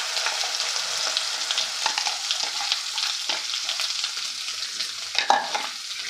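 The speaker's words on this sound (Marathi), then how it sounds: "वाटण घातलं की आपल्याला 2 ते 3 मिनिटे परतून घ्यायचं आहे" Ground masala paste for sprouted matki curry, with red chilli powder and onion-garlic masala, frying in a pan: a loud, continuous sizzle crackling throughout with spatula scrapes and stirs.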